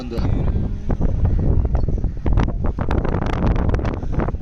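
Wind gusting across an outdoor cricket ground during a local premier league match, a loud, steady buffeting rumble on the microphone that fills the whole stretch with rustling bursts.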